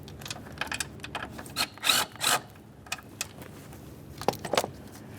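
An 8mm bolt is removed near the coolant reservoir of a 2013-2020 Ford Fusion 2.0L: quiet ratchet clicks and metallic tool rattles come in short irregular bursts, close by and without talk.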